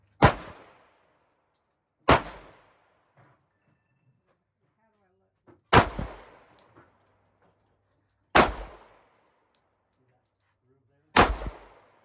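Five loud, sharp Glock 26 pistol shots fired at spaced intervals of about two to three seconds, each with a brief echoing tail, with faint quiet movement between shots.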